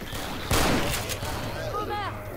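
A single loud gunshot in the video game Left 4 Dead 2, a sharp blast with a short ringing tail, set against game ambience while a voice talks nearby.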